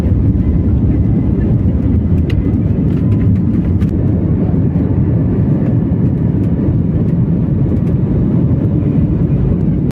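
Steady, loud low drone of a passenger jet cabin in flight from Trivandrum to Hyderabad, continuous and unchanging, with faint indistinct voices underneath.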